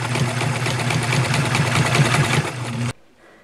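An old Nelco sewing machine runs steadily through a zigzag stitch, a loud close mechanical whir with a fast rhythmic chatter that stops abruptly near the end, leaving faint room sound.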